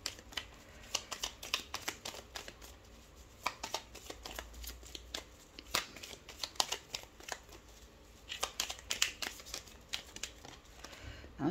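Tarot or oracle cards being shuffled for a 13-card draw, a close, quiet run of crisp riffling flicks and snaps in an uneven rhythm, with no speech.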